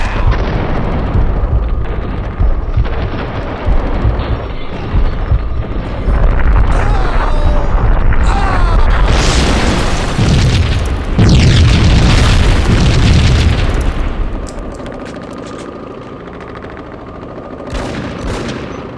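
Rapid gunfire and heavy booming explosions from the Max Payne video game, loud and close, with bursts of automatic fire and blasts building to a dense barrage before tapering into quieter debris and scattered shots.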